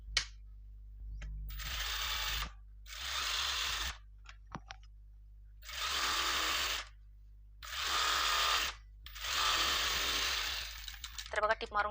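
A sewing machine stitches the waist seam of a V-neck potli blouse in several separate bursts, each a couple of seconds long with brief pauses between, loud and close.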